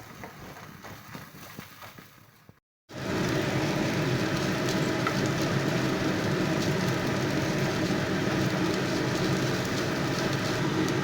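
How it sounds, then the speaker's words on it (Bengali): Ginger paste frying in a pan, a loud, continuous sizzle that bursts in suddenly after a brief quieter stretch and then holds steady and close with no voices. "এবার এগুলোকে একটু ভালো করে ভেজে নেব।"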